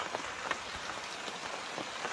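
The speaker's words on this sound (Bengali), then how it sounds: "আবারও হঠাৎ ঘুম থেকে উঠে দেখি বৃষ্টি শুরু হয়ে গেছে।" Rain falling steadily, a soft even hiss of drops striking surfaces, faint and continuous with no voices.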